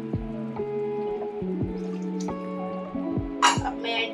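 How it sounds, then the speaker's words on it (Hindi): Water splashes into a metal pan for cooking Maggi noodles in a run of ringing, pitched plinks and trickles, close by and fairly quiet. "2 कटोरी ही पानी डालना है"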